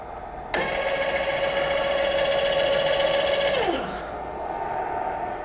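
An Ewellix electric linear actuator motor runs with a steady, close whine for about three seconds, then winds down as the pitch drops and falls silent.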